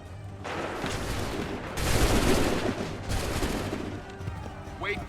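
Musket volleys crack out in an Assassin's Creed 3 battle, loud dense bursts of massed gunfire rolling over one another under a constant din, with voices shouting in the background.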